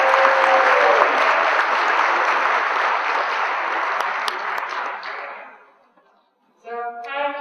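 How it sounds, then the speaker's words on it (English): A seated audience at a muscular dystrophy community event gives sustained, dense clapping that fades out gradually, followed by a voice beginning to speak. "Please give a round of applause to Marley Robinson,"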